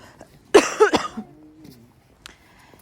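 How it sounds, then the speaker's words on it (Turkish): One sharp cough rings out close by, followed by a couple of quieter rough exhalations in an otherwise quiet space. "Benim yine öksürüm, öksürüm devam arkadaşlar."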